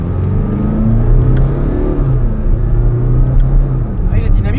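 A Range Rover with a four-cylinder engine accelerates, the engine note rising into a steady droning growl heard from inside the cabin, with people talking over it.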